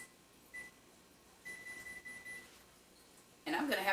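An oven timer being set gives short electronic beeps, a brief one and then a longer steady tone, at a modest level, followed by a louder burst of rustling noise at the end.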